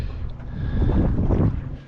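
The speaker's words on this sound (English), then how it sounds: "A little bit breezy around here" Breezy wind buffeting a microphone on a small boat drifting while squid fishing, a steady low rumble swelling louder in the middle and easing off toward the end.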